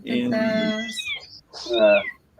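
A cat meows twice up close, first a long drawn-out call and then a shorter rising one, loud and clear, with a faint voice in the background.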